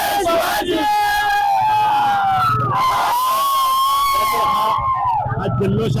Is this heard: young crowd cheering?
yes